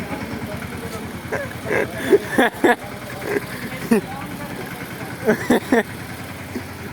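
A tractor engine idles with a steady, low, throbbing chug at a wedding outing. Loud voices talk over it throughout, and short bursts of shouting stand out.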